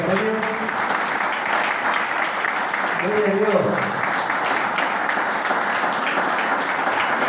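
A church congregation applauds during a worship service, a sustained wash of clapping throughout while someone speaks briefly over it a couple of times.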